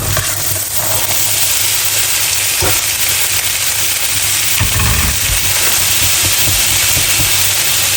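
Potato pieces sizzling in a hot frying pan as sautéed potatoes with bacon start cooking, a loud steady broadband hiss throughout with a few louder bursts as they settle into the oil.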